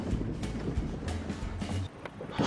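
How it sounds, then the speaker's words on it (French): Wind gusts across a yacht deck at sea, roaring against the microphone over a low engine hum, with no talking. "Ouh là là, un petit vent quand même, hein."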